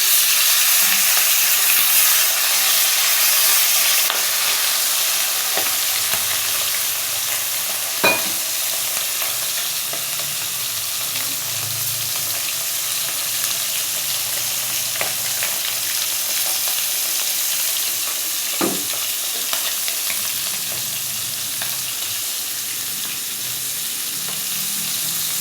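Okra, potato and taro stems cooking in a pan, with a steady broadband sizzle throughout and a few sharp clinks of stirring scattered across it, no voices present.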